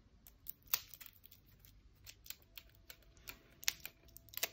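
Crisp packaging of a Light Seer's tarot deck being opened: scattered small clicks, rustles and tearing ticks, close and fairly quiet, with no talk.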